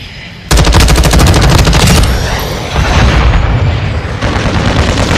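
Rapid automatic gunfire in Call of Duty: Modern Warfare 2, loud and dense with a fast rhythmic rattle and booming low end, sustained for several seconds before thinning into a rumbling din of continued combat noise.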